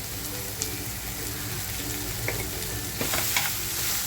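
Tomato puree stirring and sizzling in a pan of spicy Maharashtrian chicken curry masala, a steady crackling fry with a few soft scrapes of a spoon, close and moderately loud, no talking.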